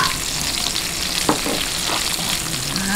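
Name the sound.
onion frying with garlic in a pan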